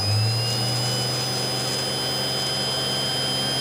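The spindle of an OX CNC machine runs at 3000 RPM as a steady, loud, high whine with a constant hum beneath it, unbroken for the whole stretch.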